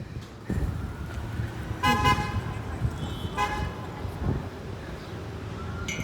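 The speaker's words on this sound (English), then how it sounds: "Who's honking over there?" Two short car horn toots sound amid steady street traffic noise, with a pause between them.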